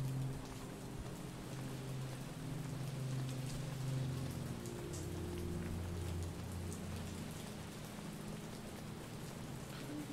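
Steady realistic rain falling on surfaces in a pixel-art video game, a constant dense patter with low rumbling tones and soft music underneath, no talk.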